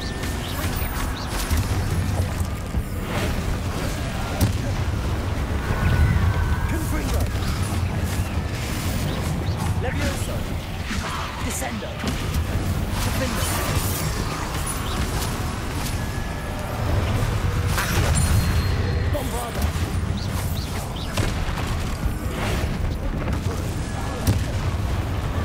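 In Hogwarts Legacy, Bombarda spells set off repeated booming explosions amid dense, chaotic combat sound that stays loud throughout. Speech runs over it.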